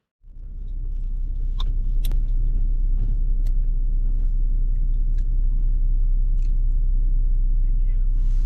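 Off-road vehicle descending a steep trail near Moab, Utah, a deep continuous engine rumble close by with occasional faint clicks and knocks over it.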